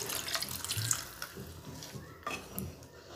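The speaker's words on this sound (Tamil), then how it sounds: "நம்ம அதில் தண்ணி ஊற்றிக்கிறலாம் குழம்புக்கு தேவையான அளவு." Water pours and splashes steadily into a pan of Chettinad country-chicken egg curry, a continuous gurgling stream with a few small clinks.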